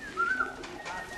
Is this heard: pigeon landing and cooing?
yes